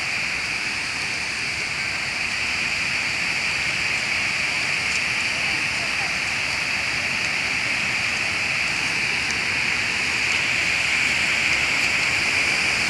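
Water pouring down at the Malampuzha waterfall makes a continuous broad roar that holds steady and swells slightly near the end, with no one talking.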